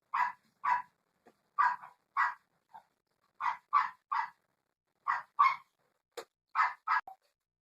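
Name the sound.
dogs barking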